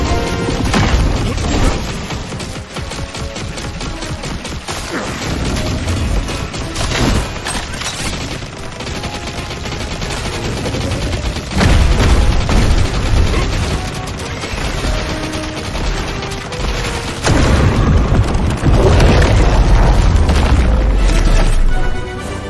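Heavy bursts of machine gun fire and booming explosions from the video game Contra Operation Galuga pound on continuously over more than twenty seconds, loud and close.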